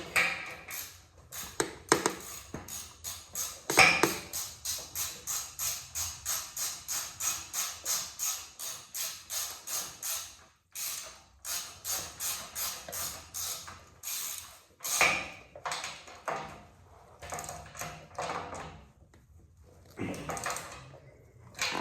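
Ratcheting clicks from tightening a bolt on a Yamaha Blaster ATV during a rebuild: long runs of fast, even ratchet pawl ticks with brief pauses between bursts, close and fairly loud, with no talking.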